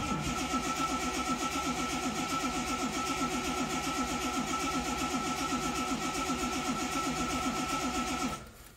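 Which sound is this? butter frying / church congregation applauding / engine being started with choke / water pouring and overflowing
engine being started with choke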